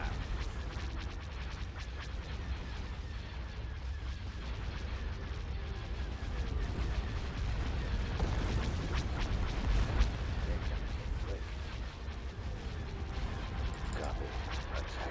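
Constant space battle in Star Wars: Empire at War, with continuous rumbling weapons fire and overlapping explosions under radio-style unit voices and commands, dense and busy throughout.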